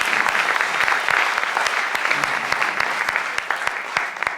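An audience at a poetry cabaret show gives a round of applause, sustained clapping with distinct sharp claps standing out near the front, steady throughout.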